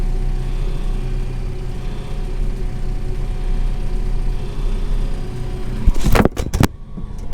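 A John Deere 6130M tractor engine pulling along in road gear, a steady mid-pitched drone held close, followed near the end by a few sharp clunks and knocks.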